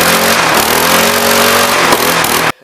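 A hot rod engine runs loud and steady right after being choked, a dense rumbling drone with harmonic layers that holds for about two and a half seconds before cutting off abruptly.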